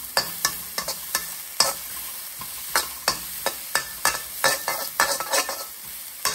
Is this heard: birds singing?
no